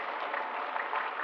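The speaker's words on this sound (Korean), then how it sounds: "우리도 박수 한번 우리가 격려하겠습니다" A church congregation at a New Year worship service claps together, a brief, even wash of applause heard through a thin, muffled recording.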